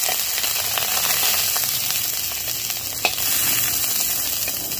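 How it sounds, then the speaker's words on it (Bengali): Fresh winter cauliflower fries in hot oil with a steady, loud hiss and dense crackling and popping from the damp florets, nearby and continuous. "দেখো ফুলকপিটা কি সুন্দর করে ভেজে নিয়েছি। অনেক ফাটাফুটি করেছে।"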